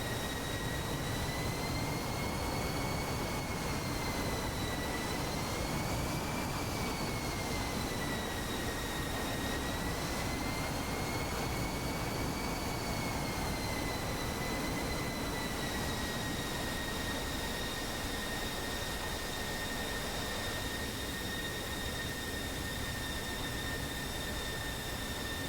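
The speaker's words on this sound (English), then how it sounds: "Delta-winged F-16" A delta-winged F-16 jet in a video game roars with a steady, loud engine rumble, its high whining tones rising and falling slightly as it flies on continuously without any talk.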